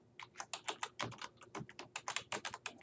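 Rapid, close-up keystrokes on a computer keyboard while spreadsheet cell text is entered: about twenty crisp clicks in an uneven typing rhythm, with no voices.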